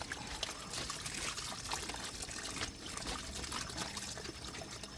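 Water runs steadily through a drain while the area is being cleaned, a faint, continuous trickling and splashing wash with no talk.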